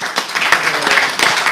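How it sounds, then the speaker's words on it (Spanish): A studio audience on a Spanish sports talk show applauds the guests, a short dense patch of clapping heard up close with some overlapping sound. "Un aplauso para todos los invitados,"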